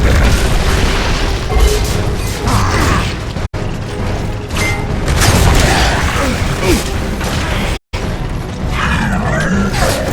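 Frag grenade explosions from Gears of War: Judgment boom loud and close in repeated heavy blasts over a dense battle din, with brief drops to silence between them. Voices shout under the noise.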